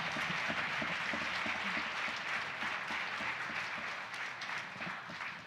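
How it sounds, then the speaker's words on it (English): Faint audience applause at a live community crowdfunding event, a continuous wash of many hands clapping at a distance, easing off slightly near the end. "Round of applause for Vondel."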